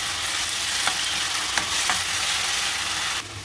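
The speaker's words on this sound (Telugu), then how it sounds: "ఇవి వేగిన తర్వాత మనము ఈ జింజర్ గార్లిక్ పేస్ట్ అయితే వేస్తున్నాము చూడండి" Ginger garlic paste sizzles steadily in a hot pan for chicken gravy, a dense continuous frying hiss broken by a few light stirring scrapes, close and fairly loud, easing slightly at the very end.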